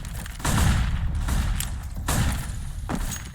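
Flashbang grenades and gunfire in a Counter-Strike match rattle through a dense burst of loud, close pops and thuds, with several sharp bangs spaced about a second apart.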